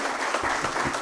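Applause from a conference audience for the speakers, a brief burst of dense, steady clapping filling the room at fairly high volume.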